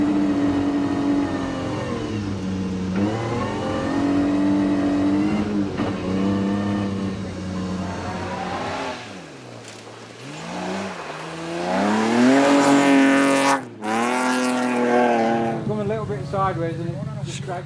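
Rally car on a snowy winter stage at Big White, its engine revving and shifting through gears with rising and falling pitch, loud and close, under a commentator's voice.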